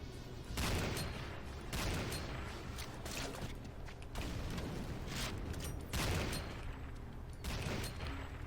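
Gunfire in the Command & Conquer Renegade video game, with repeated bursts of shots and mechanical clatter that rise and fall over several seconds and continue steadily without speech.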